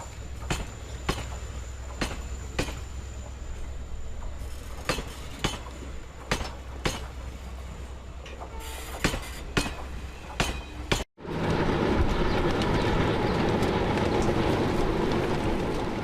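A Konkan Railway Ro-Ro freight train carrying loaded trucks passes, first as a steady run of rhythmic wheel clacks over rail joints with faint metallic clinks, then as a loud, close, continuous rumbling roar.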